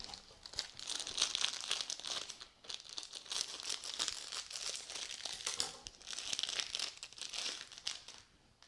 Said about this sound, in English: I'm going to go ahead and cut my pellet open